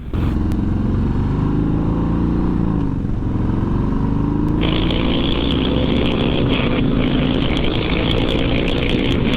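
A Harley-Davidson Sport Glide motorcycle engine running loud and close, a steady thumping idle that rises and shifts midway into a harsher, brighter roar that continues to the end.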